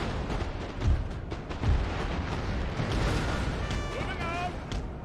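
Cannons booming in a Napoleon: Total War battle, several heavy thuds over a dense roar of combat noise, with a voice talking over the din.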